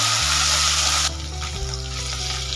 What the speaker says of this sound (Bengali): আলুগুলো হালকা ভেজে নেব।